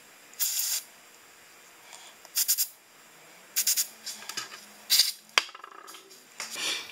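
Carb cleaner sprayed onto the carburetor of a newer Briggs lawn mower, heard as about four short, hissing spray bursts with quiet gaps and faint handling clicks between them.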